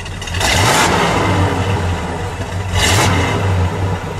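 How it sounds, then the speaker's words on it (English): A 1968 Plymouth GTX convertible's 440 V8 is revved twice, each loud throttle blip swelling over the deep, rumbling idle with clattering exhaust, close up and without talk. "Let's give him a rev."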